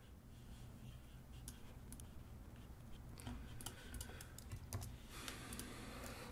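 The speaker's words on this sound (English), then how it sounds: "I'm using my shortcut keys here." Computer keyboard shortcut keys are tapped in quick, irregular clusters while editing in Final Cut Pro X, faint clicks over a low room hum.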